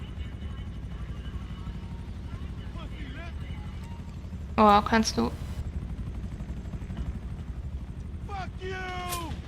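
A helicopter in GTA Online thrums steadily with a low rotor chop throughout, while people talk over it and a burst of louder action sounds breaks in midway.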